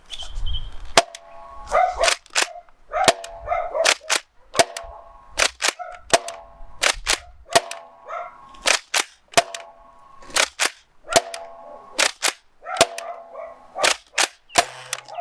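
Sharp snapping shots from a Nerf Deadpool toy blaster firing foam darts ring out in a steady series, each a crisp pop with a springy metallic ring, often in quick pairs, at close range with no talking.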